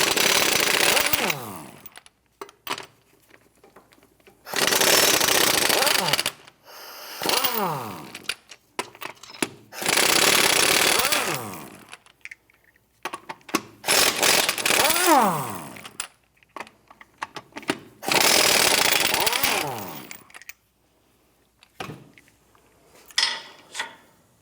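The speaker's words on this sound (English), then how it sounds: "Using a 21mm socket, let's go ahead, loosen and remove these lug nuts." Impact wrench with a 21mm socket loosening and removing lug nuts on a 2008-2013 Nissan Rogue wheel, loud repeated bursts of a few seconds each separated by pauses, close and harsh, with no talking.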